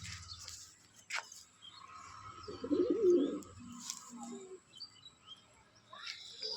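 Pigeons, a breeder's male and female pair, give a soft low coo lasting about a second, surrounded by quiet room noise and a few faint chirps.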